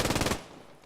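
Machine gun fire in the World War II video game Post Scriptum: a short, fairly faint burst of rapid shots lasting about a third of a second, then fading echo.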